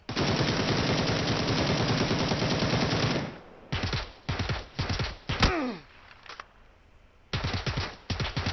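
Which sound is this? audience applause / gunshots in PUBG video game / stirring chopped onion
gunshots in PUBG video game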